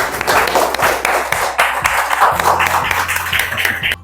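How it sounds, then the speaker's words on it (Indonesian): Applause in a classroom after a group presentation, a short burst of scattered, fairly close clapping from a small group of students, with a low hum running underneath. "beri aplaus semuanya"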